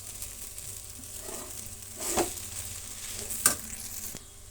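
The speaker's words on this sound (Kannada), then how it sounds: "ಈಗ ನಾವು ಬ್ರೆಡ್ಡನ್ನು ಸೇರಿಸೋಣ, ಪೀಸ್ಗಳನ್ನು. ಎಲ್ಲ ಕೂಡ ಮಿಕ್ಸ್ ಮಾಡ್ಕೊಳ್ಳೋಣ ನೀಟಾಗಿ." Bread pieces being stirred and fried in a pan for bread upma, with a steady low sizzle and a few sharp spoon scrapes against the pan, fairly quiet and with no talking.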